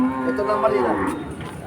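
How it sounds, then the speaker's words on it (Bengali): A single cow lets out a loud, drawn-out moo close by at the Keshabpur cattle market in Jessore, with faint background noise around it. "দেখেন গরু নিয়ে নিয়ে আসছে"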